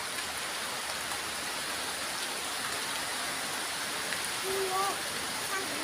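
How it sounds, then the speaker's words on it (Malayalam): Constant rushing downpour of rain in a windy storm, a dense wet hiss that stays even throughout, with a faint brief tone near the end. "ഇന്നിവിടെ നല്ല കാറ്റും മഴയൊക്കെ പെയ്യുന്നുണ്ട്"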